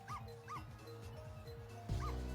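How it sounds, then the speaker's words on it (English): A dog yips and barks repeatedly in short, high, whining bursts over a busy electronic soundtrack in the game Ghost Trick: Phantom Detective, ending in a louder thump. "get Sissle barking even louder, get some more noise."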